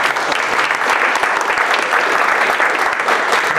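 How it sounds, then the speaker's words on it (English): Loud, sustained clapping from a conference audience congratulating the organizers, a thick continuous roar of many hands with no pause. "So if you can just give them a good round of applause just to congratulate them on this organization"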